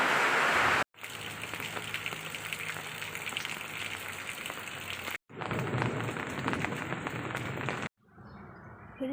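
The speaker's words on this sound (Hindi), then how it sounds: "बारिश हो रही है जोर से।" Heavy rain pours steadily outdoors in a dense, close hiss broken by two brief cuts, then a quieter indoor stretch of rainfall at the end, with no talking.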